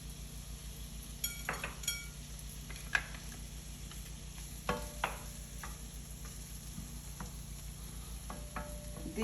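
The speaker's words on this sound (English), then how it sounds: "chopped green peppers, and tomatoes that I'm going to add to the pan and saute" Chopped green peppers and tomatoes sautéing in a pan for mini Italian frittatas, a soft continuous sizzle with scattered stirring scrapes and light clinks close by.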